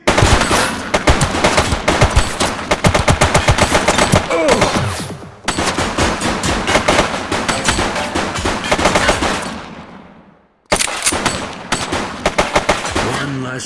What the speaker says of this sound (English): Fire here! She's shooting!